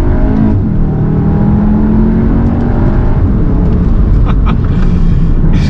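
Cupra Formentor 2.0 TSI 310 hp in Cupra mode, engine pulling hard under acceleration, a loud steady drone with rising harmonics and a couple of brief shift-like breaks, heard from inside the cabin.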